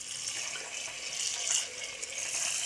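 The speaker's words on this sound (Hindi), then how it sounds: "अब इसमें पानी डालूँगी" Water poured into a pot of chicken and rice with turmeric during home cooking for a dog, a steady close splashing rush running throughout without any speech.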